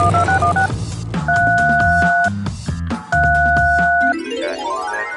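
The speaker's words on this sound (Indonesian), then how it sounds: "Mending gue telepon ke Ustadz Iwan Januar aja deh." A telephone keypad sends a quick series of loud, clear two-tone dialing beeps, each held briefly in steady succession over a dense background of other sound.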